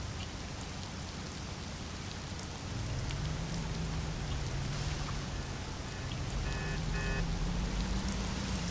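Steady heavy rain pours throughout a scene in the Mafia video game, a dense continuous hiss with a low rumble growing slightly louder partway through, with no voices.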